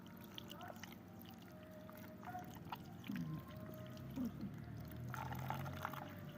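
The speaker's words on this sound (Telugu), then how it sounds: "ఇప్పుడైతే కొంచెం వాటర్ పోస్తున్నాను" Water pours into a pot of onion, tomato and drumstick curry in short splashy bursts and trickles, fairly quiet, with some faint background noise.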